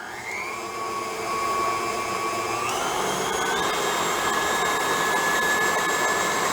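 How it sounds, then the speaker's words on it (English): An electric mixer whirs continuously while blending cookie dough for white chocolate cranberry pistachio cookies, its motor pitch stepping up partway through and holding a loud, steady drone. "this has been blending for a few minutes"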